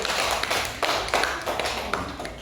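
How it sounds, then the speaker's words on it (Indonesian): A classroom of students claps together, a dense, continuous patter of many hands with uneven peaks, moderately loud and close, filling the room without speech. "Ya, silakan dulu, tepuk tangan dulu."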